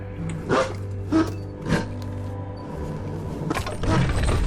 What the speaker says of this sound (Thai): เราล่อสุนัขมาตรงนี้ครับ